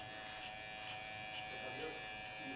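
An electric hair clipper fitted with a 1.5 guard buzzes steadily and close while cutting hair, its hum pulsing slightly with each pass, under quiet background talk.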